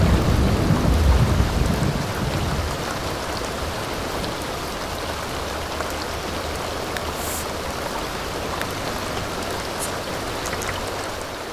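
Thunderstorm with steady heavy rain in The Sims 2 Castaway Stories video game, a loud low rumble of thunder at the start fading into a continuous dense patter of rainfall, with no talking.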